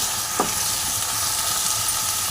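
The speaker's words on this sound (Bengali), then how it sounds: "পেঁয়াজগুলো ভাজা ভাজা হয়ে গেছে" Onions frying in a pan with tomato paste for a Bengali-style chicken curry give off a steady, dense hiss of sizzling, with one brief scrape of a spoon early on and no voices.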